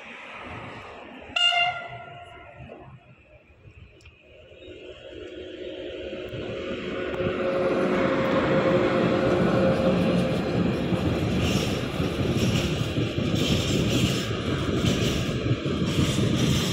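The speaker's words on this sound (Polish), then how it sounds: "Pociąg właśnie jedzie." A train rumbles past at close range at a level crossing on Śląska Street in Łódź, Poland, its steady roar building and holding after a brief horn-like blast near the start.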